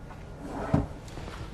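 A drawer in a new 2020 Newmar Canyon Star 3929 motorhome opens or closes with a single short, close thud-like bump, standing out briefly against quiet room tone.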